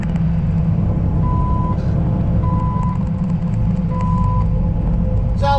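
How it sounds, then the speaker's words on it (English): Late-afternoon road traffic in Indianapolis, a steady heavy rumble of trucks and cars with three evenly spaced reversing beeps. "So I'll let you enjoy the traffic of Indianapolis at 5:45 in the afternoon."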